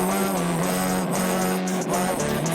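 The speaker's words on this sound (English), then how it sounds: "then I put the distortion pedal on, and I made it sound like this." A melody is played through a distortion pedal, producing a dense, buzzing, sustained tone with steady pitched lines and no breaks, loud and close with no talking.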